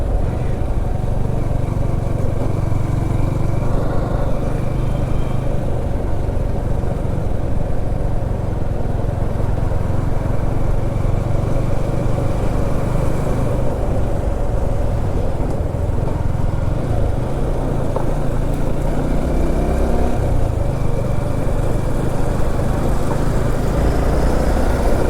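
A motorcycle rides on city roads around Satara, Maharashtra, during a monsoon trip, giving a continuous engine drone mixed with road and wind rumble throughout, with no pauses.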